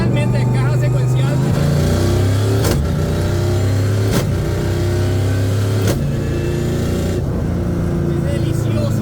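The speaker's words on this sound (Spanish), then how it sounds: "Estamos probando un poquitito la camioneta con Luis y es lindo realmente, principalmente en caja secuencial." A pickup truck with a sequential gearbox revs through gear changes on a test drive, a loud, steady engine drone with rising pitch and brief breaks at each shift, heard from inside the cab with speech picked up.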